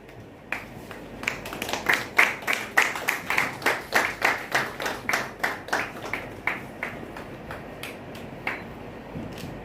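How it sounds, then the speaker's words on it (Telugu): An audience at an award ceremony claps in slow, steady unison, about twenty evenly spaced loud claps that build, peak and gradually fade. "చప్పట్లు ఆగకూడదు"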